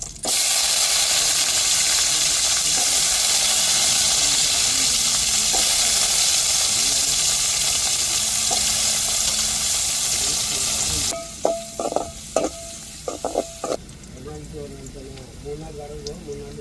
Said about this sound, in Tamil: இப்போ நம்ம கட் பண்ணி வச்சுருக்கிற வெங்காயத்தை சேர்த்துக்கிருவோம்